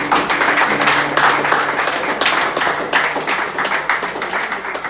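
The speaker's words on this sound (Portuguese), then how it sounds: "Salva de palmas para Jesus." A church congregation claps in a round of applause during a worship service, a fairly close, continuous patter of hands with a faint low tone lingering underneath early on.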